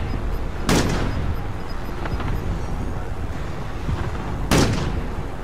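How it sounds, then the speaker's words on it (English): Gunfire in the video game Call of Duty Warzone: two sharp, loud gunshot bursts stand out from steady background game noise, with a few faint distant pops between them. "Oh, you're getting shot."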